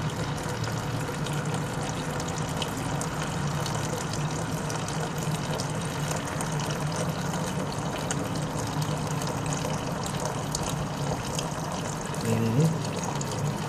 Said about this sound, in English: Let me start the water. And we're gonna pour this back.